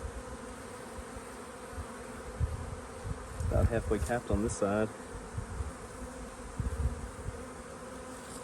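Honeybees hum in a dense, steady buzz around an open hive on a beekeeping farm, frames partly capped and the colony being fed, with a voice speaking briefly midway over the swarm.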